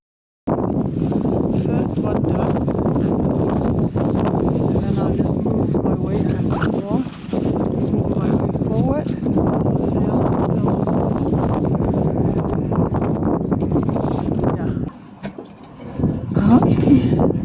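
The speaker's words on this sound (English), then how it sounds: "That is good in all this wind." Strong wind buffets a 12-ton sailboat being prepared for winter by a lone sailor, a steady loud roar of gusts and microphone rumble running almost throughout, with someone talking over it and a brief lull near the end.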